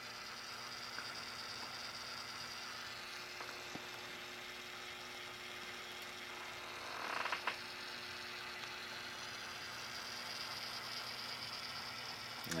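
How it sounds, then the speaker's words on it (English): An 80s-era Bell & Howell 3191A commercial cassette recorder mechanism running in rewind, giving a steady close mechanical whir and hum with faint creaks and a brief louder rattle partway through. "here's the mechanism operating in rewind mode"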